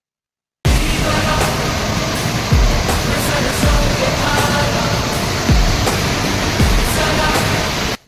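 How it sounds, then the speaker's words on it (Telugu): Tarab waterfall in full flow roars as a loud, continuous wall of rushing water, dense and unbroken, with occasional low thumps of wind or handling buffeting through it. "వాటర్ ఫాల్స్ అనేది పిచ్చ పీక్స్ లో ఉంది భయ్యా"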